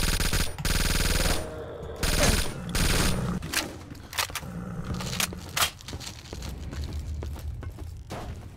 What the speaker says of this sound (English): I tried to shoot a lot of bullets at him